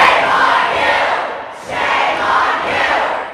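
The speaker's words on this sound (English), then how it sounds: "Protesters outside the chamber yelled shame at senators as the body passed a near-total abortion ban." Protesters outside a state Senate chamber shout in unison in two long, loud crowd yells, with a short dip between them.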